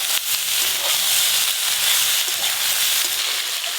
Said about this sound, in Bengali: এবার ভালো করে ভাজা হয়ে গেছে